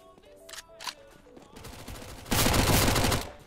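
Gunfire in Counter-Strike: Global Offensive, a few sharp shots early, then a dense, loud burst of rapid fire in the final second.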